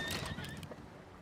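A horse unit in the strategy game Civilization 7 gives a short whinny over faint hoofbeat clip-clops, brief and moderately close.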